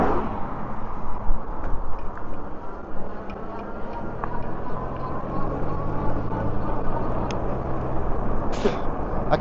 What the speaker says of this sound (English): I can see that car behind me.